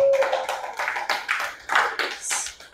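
A small group in an Indonesian classroom-style academic supervision session claps for a participant, a few uneven bursts of hand claps, fairly close and modest in loudness, with no one speaking.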